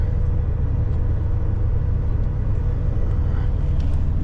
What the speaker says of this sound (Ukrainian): Тож потихеньку виїжджаю з цієї першої точки, їду на іншу.